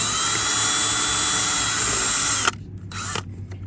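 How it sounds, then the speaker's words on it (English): A high-pitched power drill whines steadily while pre-drilling holes in a sailboat's fiberglass deck, then stops abruptly, followed by a few brief bursts and quieter handling noises. "we're installing the cable entry in the deck, and we pre-drill the holes"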